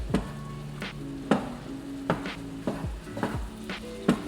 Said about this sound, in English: what we're doing right now is basically just browning our ground turkey sausage